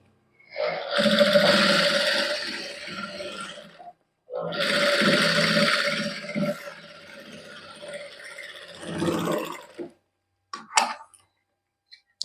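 A sewing machine stitches a designer salwar in a Punjabi boutique, running in three long whirring bursts separated by brief pauses. A few short clicks follow.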